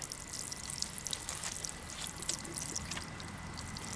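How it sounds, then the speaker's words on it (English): Water pours and trickles over a granite slab, a steady wet splashing with scattered drips and small splatters. "I'm going to pour some water over it."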